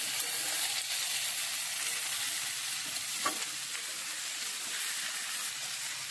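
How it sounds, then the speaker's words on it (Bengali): Ridge gourd pieces frying lightly in a pan give a steady, even sizzling hiss throughout, with a single faint scrape partway through and no voices. "বেশি ভাজবো না, হালকা ভাজবো ধুন্দুলগুলো।"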